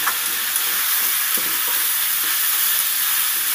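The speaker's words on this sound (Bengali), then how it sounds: "গাজর আর আলুটা আমি খুব সুন্দর করে ভেজে নেব।" Potatoes and grated carrots fry in a pan with a steady, bright sizzle and hiss, plus a few soft stirring clicks, close and continuous with no voices.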